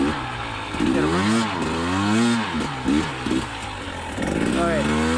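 KTM 300 XC TPI two-stroke dirt bike revving hard through a water crossing, engine pitch rising and falling in repeated surges, loud and close with splashing noise throughout.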